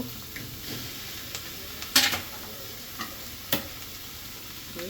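An egg is added to chicken meat frying in a pan. A low continuous sizzle carries a few sharp spoon clicks and one brief louder burst of crackling hiss, with no talking.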